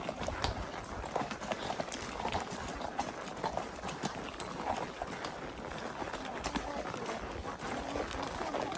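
A horse walks down a mountain trail toward a river valley, its hooves clip-clopping in a steady quick rhythm over rough ground, close by, under continuous outdoor rustle and faint talk.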